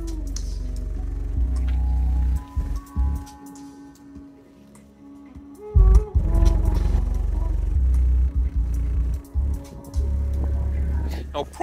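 Music played at full volume through an infinite baffle subwoofer setup in a car, with deep booming bass that dominates and several brief dropouts and surges, heard from close by with the door open.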